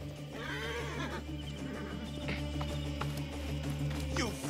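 A horse neighs and whinnies amid a busy stretch of Assassin's Creed Origins chariot-race play, with steady rumbling game sound and scattered clatter, moderately loud throughout.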